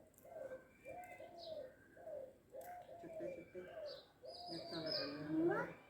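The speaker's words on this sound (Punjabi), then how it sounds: "ਘੁੱਗੀ ਬੋਲਦੀ ਆ" A dove coos in repeated soft, rhythmic phrases, close and clear, with a higher bird chirp and a voice rising near the end.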